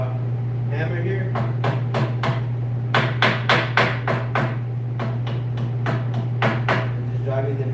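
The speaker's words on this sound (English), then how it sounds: "So I just got a flathead hammer here." A flathead hammer drives pin nails in on a welder cart, a quick series of sharp taps in clusters, some fast and close together, over a steady low hum.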